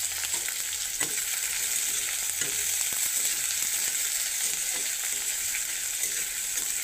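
Onions and green chilies frying in oil make a steady, close sizzle throughout, with faint scattered clicks of stirring.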